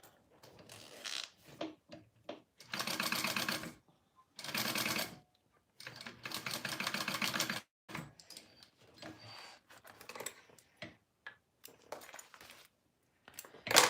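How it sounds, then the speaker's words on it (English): A sewing machine bastes fabric in several short, close bursts of rapid stitching, separated by pauses filled with soft handling clicks and rustles. "So I'm just basting this on first."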